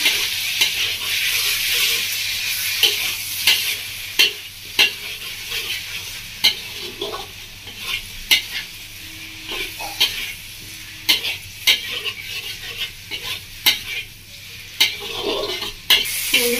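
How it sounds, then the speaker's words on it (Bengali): Spice masala with turmeric frying and being stirred in a pan for a Bengali village-style bata fish curry, a steady close sizzle with repeated sharp scrapes of the spoon against the pan. "এবার এসে বন্ধুরা একটু মতো হলুদের গুঁড়ো, মশলাটা ভালোভাবে কষিয়ে নেব"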